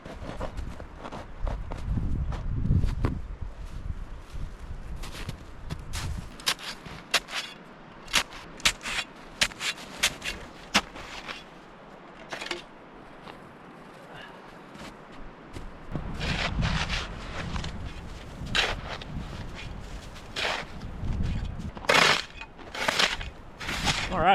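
Boots stamp a path and a wide circle through deep snow at a winter bushcraft camp, giving a series of crunching, compacting steps in uneven bursts, close by, with some talking in between.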